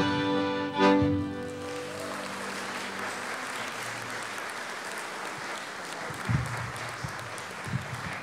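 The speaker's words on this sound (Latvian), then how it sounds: "Paldies, mīlī, par aplausim." An audience applauds a Latvian folk band at a rural music festival in Viļāni, with clapping and cheering rising after the song's last chord fades, then holding at a steady moderate level.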